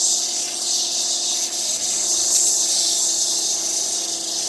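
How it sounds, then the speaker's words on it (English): The top of a glued intarsia piece is ground down, giving a steady, close abrasive hiss and rub that continues without pause. "And I'm just going to grind the top."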